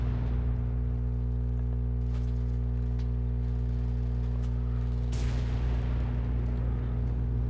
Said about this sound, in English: More bombs.